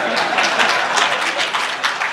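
An audience at a KTDA induction workshop for factory directors breaks into loud, dense applause, a close burst of many hands clapping that holds steady throughout.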